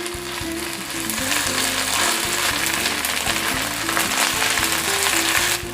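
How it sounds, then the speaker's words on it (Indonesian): Anchovies, potatoes and green chili stir-fry with shrimp paste in a pan, a steady close sizzle with a rattling, clattering pattern of scraping and stirring running throughout. "Diaduk-aduk semuanya ya sampai tercampur rata"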